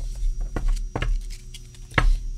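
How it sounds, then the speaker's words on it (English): A Robin Wood tarot deck is shuffled, producing a few quick, close papery taps and slaps in a short burst. "All right, let's have a shuffle."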